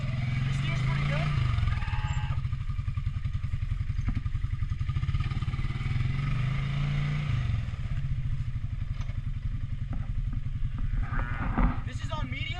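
A Can-Am Outlander 700 ATV engine rumbles in a steady low throb while riding, with clattering and bumps over the terrain and someone talking over it.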